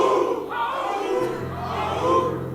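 A church congregation shouts a loud collective cry on cue, a sustained crowd roar that swells and holds for a couple of seconds.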